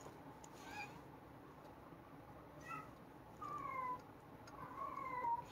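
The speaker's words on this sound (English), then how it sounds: "That's my cat." A pet cat cries in the background with several short, thin meows spread across a quiet room, faint and a little distant.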